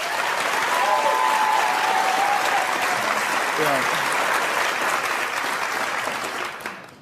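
Studio audience on a talk show claps as a show-of-hands vote, a broad sustained round of applause that fades out at the end, with a brief voice underneath.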